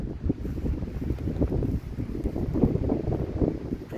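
Steady wind buffeting a microphone, a low rumbling roar with gusty swells throughout and no voices.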